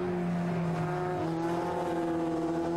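Ginetta race cars on a circuit, engines droning in a steady, sustained tone that slowly shifts pitch as the cars run through the complex, loud and continuous with no clear voices.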